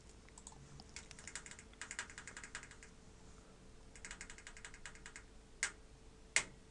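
Computer keyboard typing at a desk while working in Unity 3D, soft and fairly close, in irregular bursts of quick taps with pauses and a couple of sharper clicks near the end.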